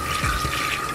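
Tap water running steadily into a container at a sink, a continuous close hiss and trickle lasting about a second with no voices.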